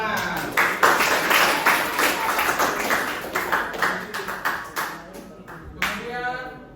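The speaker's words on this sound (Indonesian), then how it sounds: "Tepuk tangan" A classroom of students claps hands together, a dense burst of overlapping claps that builds and then trails off over several seconds, with voices mixed in underneath.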